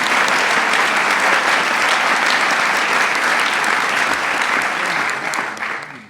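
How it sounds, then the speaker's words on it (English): Audience applause for members of Congress at a presidential event on a new intelligence team: dense, steady clapping from a large crowd, loud and sustained for about six seconds before tapering off at the end. "You can give members of Congress a round of applause as well."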